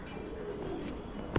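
Brown pigeons at a breeding loft giving a soft, faint cooing call, a low drawn-out coo with a brief louder sound near the end.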